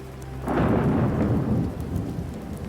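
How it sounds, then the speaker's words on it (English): Heavy rain on a roof sets in abruptly and roars loud and close, a dense low rumble like distant thunder rolling beneath the downpour, with no voices. "The rain had gotten louder."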